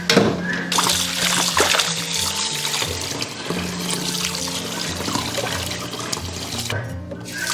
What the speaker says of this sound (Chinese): 现在给它捞起来清洗一遍。